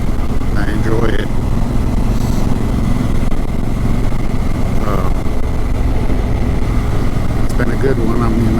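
2017 Honda Africa Twin motorcycle on the move, a steady close engine drone with wind rush running throughout, while someone talks over it at times.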